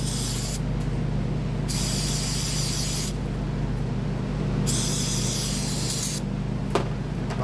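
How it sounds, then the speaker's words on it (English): Aerosol brake cleaner sprayed onto a chainsaw air filter cover, a loud, close hiss in several long bursts separated by brief gaps, with a low background hum throughout. "Get another can of brake clean. Rinse this air filter cover out."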